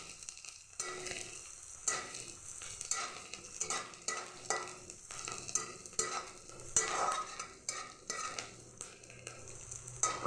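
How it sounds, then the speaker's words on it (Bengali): Onions fry in a pan until reddened, a steady close sizzle broken by repeated scraping stirs and light clinks of a utensil against the pan, with no talking. "পেঁয়াজটা একটু লাল করে ভেজে নিব"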